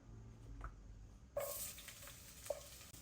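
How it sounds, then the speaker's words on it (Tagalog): Garlic, onion and ginger hitting hot oil in a pan for sautéing, a soft steady sizzle that swells suddenly partway through, with faint stirring clinks, quiet and close, no talking. "Ginigisa ko muna to sa bawang, sibuyas,"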